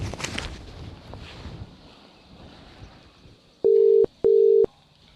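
Telephone tones while a call is placed in a Gujarati comedy skit: two steady electronic beeps about half a second each, close together after a few seconds of faint, windy background hiss.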